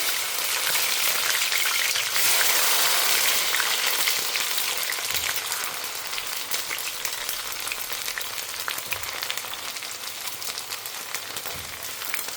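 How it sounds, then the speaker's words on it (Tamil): Okra frying in hot oil, a dense steady sizzle and crackle close by that fills the whole stretch without pause and eases slightly toward the end. "எண்ணெய் சுட ஆரம்பிச்சுடுத்து நம்ம வெண்டைக்காயை"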